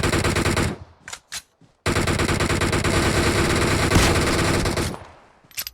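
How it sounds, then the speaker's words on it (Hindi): Loud, close automatic gunfire in PUBG Mobile on the Livik map: a few short bursts, then a long unbroken spray of rapid shots that fades out, with one more brief burst at the end. "पीछे से कोई स्नाइपर मार रहा है।"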